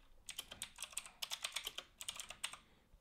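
Rapid, uneven keystrokes on a computer keyboard as notes are typed into a pool-service app, close and clear with short bursts and brief pauses over a quiet background.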